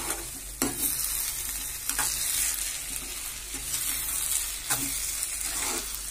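Shavige uppittu (vermicelli upma) stirred in a frying pan after lemon juice goes in, a steady sizzle broken by a few louder scraping strokes of the spoon every second or so, close and with no talk.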